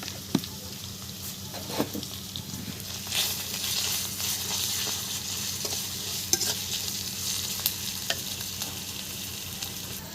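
Ground spice paste with salt frying in a pan, a steady close sizzle throughout with repeated scraping and stirring strokes of a spatula; no voices.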